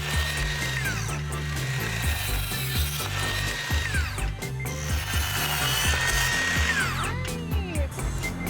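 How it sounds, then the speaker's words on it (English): A miter saw cutting wood during a bedroom and closet DIY project, heard as a steady, loud mechanical whine with repeated ratcheting and clunking tool noises through the whole stretch and no talking. "I'm gonna teach you how to use a miter saw to make the cuts."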